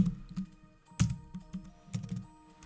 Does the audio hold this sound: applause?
no